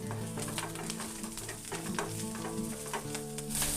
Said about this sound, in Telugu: ఆయిల్ వేడైంది, మీడియం ఫ్లేమ్ పెట్టుకొని ఇప్పుడు వెల్లుల్లి వేసుకోవాలి